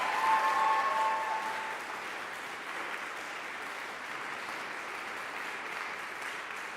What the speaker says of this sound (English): if you want to clap, go ahead and clap.